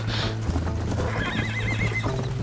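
A horse in the Red Dead Redemption video game whinnies with a wavering neigh over steady clip-clopping hooves and a continuous low droning background.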